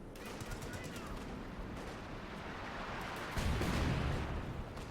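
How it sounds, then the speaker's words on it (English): An artillery barrage in the World War II strategy game Company of Heroes 2: a dense, continuous rumble of shelling and crackling gunfire, swelling louder near the end, with a voice talking over it. "Artillery barrage."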